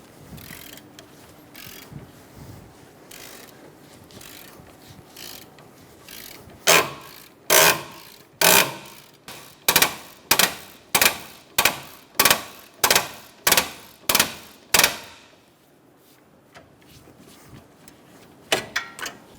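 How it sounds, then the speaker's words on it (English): A ratchet with a 14mm socket works the intake manifold base bolts on a 2009-2013 BMW 328i xDrive 3.0L inline-six, giving about a dozen loud, close, evenly spaced bursts of ratcheting clicks after quieter handling, with no talk. "Using a 14mm socket,"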